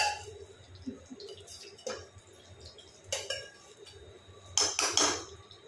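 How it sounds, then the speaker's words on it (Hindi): A kadhai set onto a gas stove for cooking with desi ghee gives a few sparse metallic clanks and clinks, close and fairly crisp, with quiet pauses in between. "कढ़ाई चढ़ा दीजिए गैस पे और इसमें देसी घी डाल दीजिए डेढ़ चम्मच"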